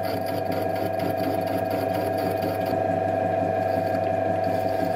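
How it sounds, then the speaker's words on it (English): A lathe trims metal swingarm parts for a tilting trike to length, giving a continuous mechanical whir with a fine rattling, gear-like texture, steady and close throughout. "I'm going to trim them to the precise length required using my lathe"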